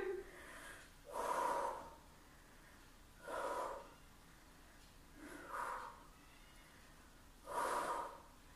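Heavy, forceful breaths during a high-intensity HIIT interval workout, four loud bursts of exhaling a couple of seconds apart, close to the microphone, with quieter gaps between and no speech.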